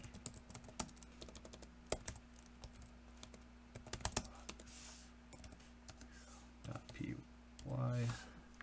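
Keys clatter on a computer keyboard in quick irregular bursts of clicks, close and crisp, with a person speaking briefly near the end.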